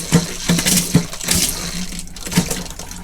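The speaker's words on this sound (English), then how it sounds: "We've got the water that's in the boiler coming through at the moment." Water runs from the hot tap of a motorhome sink, with the boiler water coming through, giving a steady close splashing flow with a few louder gurgles and spurts over about three seconds.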